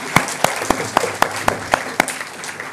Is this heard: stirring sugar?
no